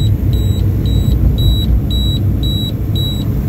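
A car's warning chime beeps in a steady repeating pattern as its CNG supply runs out, with about seven evenly spaced high double beeps over a low engine rumble inside a cab used for Ola and Uber driving.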